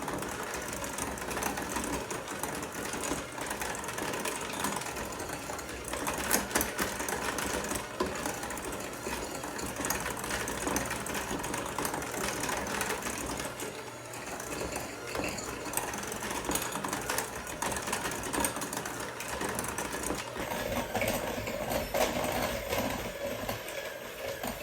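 A stand mixer creams baking ingredients together on a warm 80-degree day, a steady close mechanical whir with rhythmic beating that runs continuously throughout without talk.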